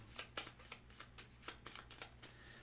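A deck of cards being shuffled, with a series of quick riffling bursts repeating at a steady rhythm, close up and fairly quiet.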